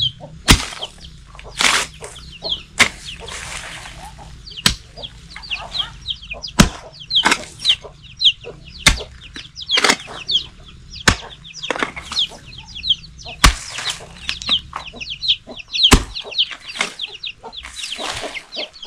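Chickens cluck in a farmyard, a busy stream of overlapping clucks and calls broken by sharp knocks and bursts of wing flapping, close and fairly loud with no speech.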